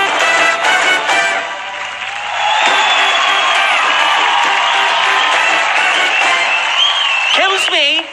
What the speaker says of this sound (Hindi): बहुत जोरदार तालियां Vivo V9 के लिए भी